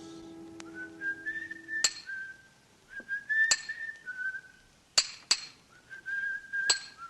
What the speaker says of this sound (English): From the yard itself came a cheery whistle